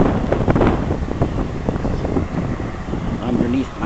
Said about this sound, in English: The wind is strong, I'm sure you can hear.